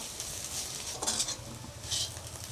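Susni greens frying with prawns and onions in a pan, soft steady sizzling with a few clinks and scrapes of a spatula against the pan, quiet and close, no voices.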